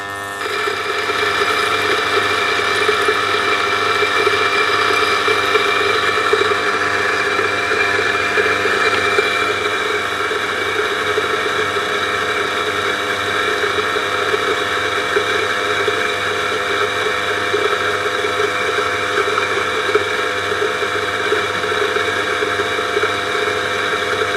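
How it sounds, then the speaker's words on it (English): A DF54 coffee grinder grinds a 22-gram dose of beans, a steady, loud mechanical whir without pause, a dense rattling drone, with no talking. "I can hear that the beans are mostly grinded out."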